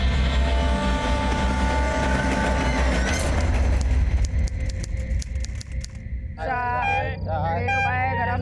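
A passenger train pulls into a railway station with steady rumbling and clattering wagons throughout, a rising whine midway, then squealing brakes near the end, loud and close.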